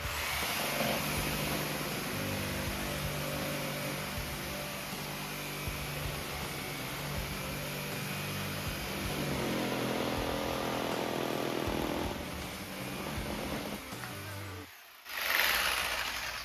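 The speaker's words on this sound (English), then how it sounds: "And that is the Milwaukee corded 12 amp reciprocating saw" A Milwaukee corded 12 amp reciprocating saw rips through a 2x4 on a light, flimsy base, giving a steady loud buzzing drone for about fourteen seconds before briefly stopping and restarting.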